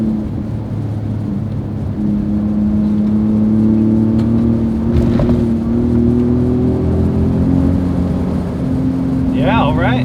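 Ford Roush Raptor pickup truck engine and exhaust while driving, a steady low drone with a rising rev near the middle, heard from inside the cab with a voice speaking over it.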